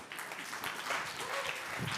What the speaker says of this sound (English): Round of applause for Harold.